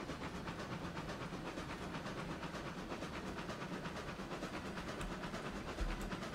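A steam locomotive in RailRoads Online being braked as it rolls down a mountain grade: a continuous broad hiss and rumble with faint rhythmic clicking, steady throughout at low level.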